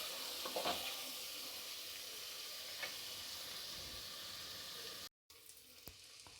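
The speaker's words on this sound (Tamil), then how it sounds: "வெங்காயத்தை வதக்கிக்கணும் முதல்ல." Onions sautéing in a pan for quail gravy give off a steady, quiet, even sizzle that briefly cuts out near the end, then resumes more softly.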